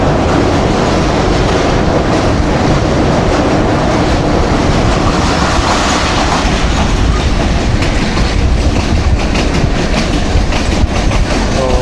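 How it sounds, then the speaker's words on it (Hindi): A passenger train rumbles loudly across the Jhelum river bridge with steady clickety-clack of wheels over the rails, a continuous close roar heard from on board. "लेफ़्ट बैंक से राइट बैंक की तरफ जा रही है ट्रेन हमारी"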